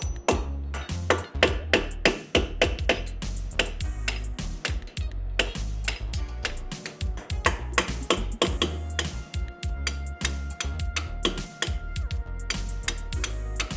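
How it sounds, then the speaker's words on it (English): A hammer striking a punch to knock brake pad pins out of a C7 Corvette front caliper, a long run of sharp metallic taps and pings close up, irregular in rhythm and loud throughout. "take a hammer and a punch and carefully knock these pins out"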